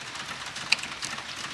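Rain falling outside right next to a window, a quiet, steady hiss with a single brief tap, heard alone without talk.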